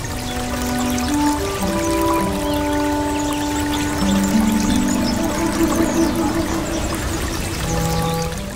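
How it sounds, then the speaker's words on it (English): The River Leith widens and runs over a weir, giving a steady broadband rush of flowing water, loud and constant, with faint tonal hum or music lines running through it and no talking. "But next the Leith widens and passes over a weir."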